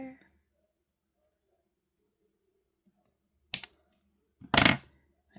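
Beading wire trimmed with cutters while making a seahorse necklace: two sharp, close clicks a second apart, the second slightly longer, after near silence.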